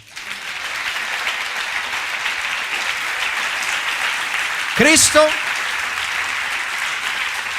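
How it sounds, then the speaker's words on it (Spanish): Steady applause from a church congregation fills the whole stretch, with a brief spoken word cutting through near the middle. "Dale un aplauso a Él."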